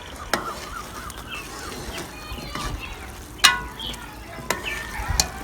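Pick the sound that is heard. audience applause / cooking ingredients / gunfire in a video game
cooking ingredients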